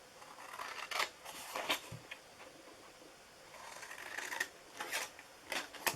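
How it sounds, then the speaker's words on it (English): Scissors cut paper flaps for a small birthday treat box. The snips are soft and close, coming in irregular bursts over a quiet background, with no talk. "you are going to cut off these 2 right here"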